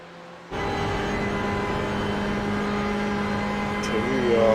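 Race car engine in the iRacing sim at Daytona kicks in abruptly after a brief silence and holds a steady, droning high-rev tone, rising slightly louder near the end, with no clear peak in revs.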